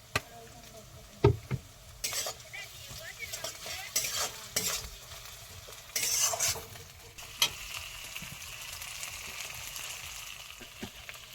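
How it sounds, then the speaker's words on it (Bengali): Ginger-garlic paste hits frying onions in a pan at a riverside night picnic, giving a soft sizzle broken by repeated bursts of spoon scraping and stirring, fairly quiet overall. "এবার দিয়ে দেবো আদা রসুন বাটা"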